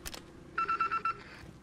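Telephone dialing tones in Call of Duty Warzone, a quick run of about five short electronic beeps in steady rhythm, clear and alone after a brief click.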